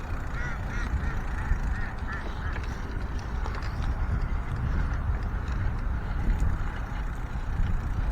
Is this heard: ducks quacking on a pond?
yes